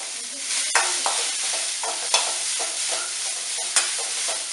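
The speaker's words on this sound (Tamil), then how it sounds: "இப்போ நம்ம அதே கடாயில் வெங்காயத்தை போட்டு நல்லா வதக்கிடலாம்." Onions stirred and sautéed with a little salt in a kadai make a steady close sizzle, with repeated spoon scrapes against the pan every second or so.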